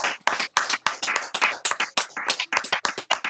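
Church congregation clapping together in a steady, rhythmic burst of applause, close and loud, lasting a few seconds with no talk over it.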